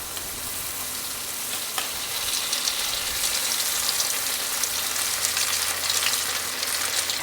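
Egg rolls deep-frying in piping hot oil give off a steady, dense sizzle that builds slightly louder partway through and keeps going with no talk.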